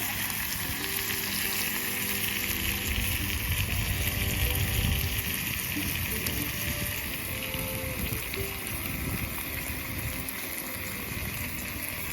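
Bacon frying in a pan: a loud, steady crackling sizzle that runs continuously throughout, close up and without speech.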